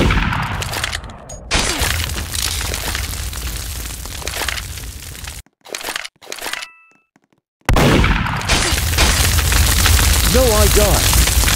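Gunshots ring out in the Roblox game Murder Mystery 2, sharp bursts and crackling shots over loud game noise, broken by a couple of silent gaps before heavy noise resumes.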